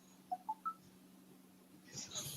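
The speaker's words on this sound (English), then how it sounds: "You guys can hear the notification" A payment notification chimes as three quick rising electronic beeps in a row, moderately loud over a quiet hum, followed by a soft rustle.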